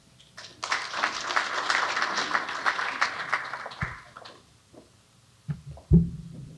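An audience at a roundtable meeting applauds in a dense burst of clapping that builds, holds for a few seconds and then tapers off into scattered claps and a few knocks.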